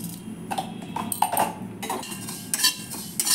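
One spoonful each of cumin and fennel seeds dry-roasting in a hot kadai, with soft scraping and light metallic clinks from stirring, quiet and close, no voices.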